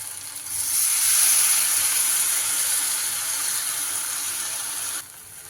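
Batter ladled into hot oil fizzes in a steady bright hiss that swells quickly, holds for several seconds and then cuts off, with no talk over it.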